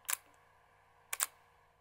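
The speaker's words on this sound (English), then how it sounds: "The mechanical shutter sound is quite subtle." Two crisp mechanical shutter clicks from a Fujifilm X-T5 camera, each a quick double snap, about a second apart, close and fairly quiet in a silent room.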